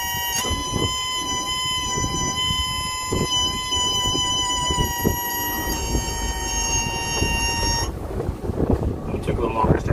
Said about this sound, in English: Time to fire up engines.